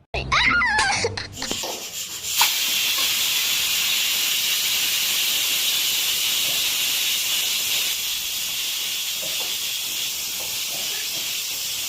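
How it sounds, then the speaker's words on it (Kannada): Pressure cooker releasing steam while vegetable pulao cooks, a loud continuous hiss that settles into a steady jet after a brief voice at the start, holding nearly constant throughout. "ಕುಕ್ಕರ್ ಬಾಯಿ ಹಾಕಿ 1-2 ಸೀಟಿ ಹೊಡೆಸಿದ್ರೆ ಮುಗೀತು, ಪಲಾವ್ ರೆಡಿ."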